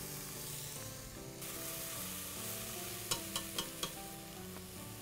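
Chopped onion and garlic sauté in olive oil, a steady close sizzle with a few sharp clicks of stirring near the end.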